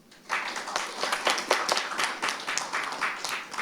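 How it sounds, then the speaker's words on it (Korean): A crowd claps steadily throughout, dense and fairly close, with no voices over it. "뜨거운 박수 감사드리고요"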